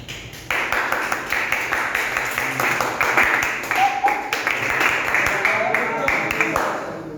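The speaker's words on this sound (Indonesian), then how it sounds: "Tepuk tangan." Classroom applause from students in a school lesson, a steady patter of many hands clapping for several seconds at moderate loudness, with some speech-like sounds mixed in.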